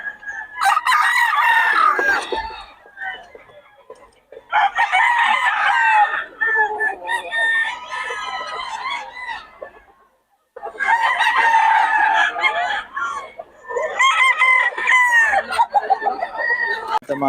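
Several fighting roosters and chickens crow loudly in long repeated bursts with clucking between them, close and clear, separated by short quiet gaps, with a few faint voices in the background.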